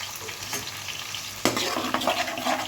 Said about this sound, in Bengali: তিন থেকে চার মিনিট এটা আমি একটু কষিয়ে নেব